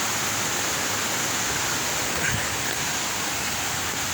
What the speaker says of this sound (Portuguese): Olha o riozão ali.